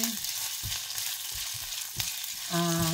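Sliced ginger frying in hot oil gives a dense, continuous sizzle, broken by repeated low thuds and scrapes as it is stirred in the pan.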